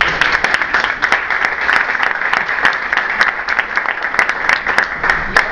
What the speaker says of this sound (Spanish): un fuerte aplauso por eso